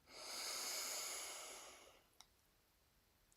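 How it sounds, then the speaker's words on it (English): A person draws in one long, deep, airy breath for about two seconds during a stretching class. The inhale is close and fades out, followed by quiet and a couple of small clicks. "Take a deep breath in."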